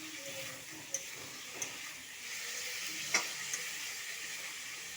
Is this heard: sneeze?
no